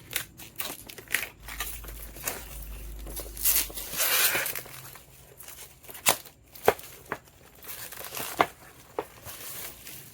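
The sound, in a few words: cutting open the S10 Ultra 2 smartwatch packaging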